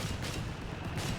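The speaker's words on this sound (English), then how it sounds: "Bringing in that 2-pounder. What a hilarious gun." A 2-pounder anti-tank gun fires in the Company of Heroes 3 game, a dense rumbling blast of battle noise with sharp reports near the start and again near the end, loud and continuous with no talk.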